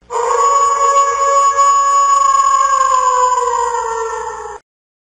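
One long wolf howl, a loud sustained note that slowly slides a little lower before cutting off into silence.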